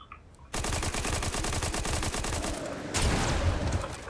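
A Fortnite weapon fires a continuous rapid automatic burst, loud and dense, with a brief extra punch of shots near the end.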